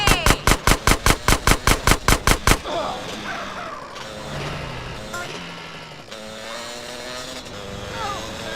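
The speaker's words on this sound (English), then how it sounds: "Stop shooting that thing right next to my ear!" Rapid automatic gunfire in the GTA San Andreas video game, a loud burst of about a dozen evenly spaced shots up close, then engine and vehicle noise with game voices talking over it.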